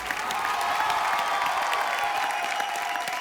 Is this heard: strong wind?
no